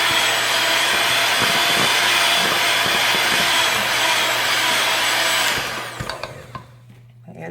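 An electric stand mixer churns sugar cookie dough with a loud, steady whirring motor drone and rough scraping, then winds down and stops near the end, leaving a few clunks and quieter noise.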